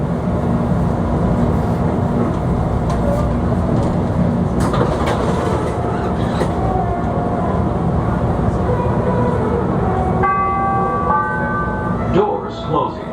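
A CTA Orange Line train runs through the Chicago Loop in a steady, loud rolling rumble with wheel clatter and squeals, tonal brake or motor whines rising near the end.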